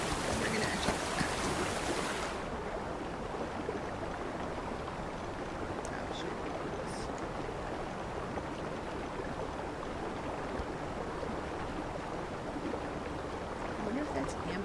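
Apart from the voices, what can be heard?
flowing water stream ambience in video game Equinox Homecoming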